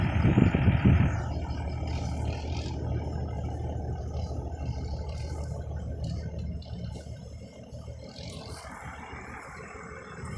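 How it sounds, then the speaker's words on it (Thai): A Kobelco SK220 excavator with an Isuzu diesel engine runs steadily, a continuous low rumble with a brief louder surge at the start and a faint whirring tone over it. "เครื่องยนต์เป็นมิซูครับ"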